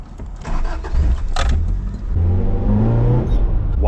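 A car with timing trouble being cranked over, its engine churning and catching roughly with rising and falling revs, loud and close, preceded by a brief clatter.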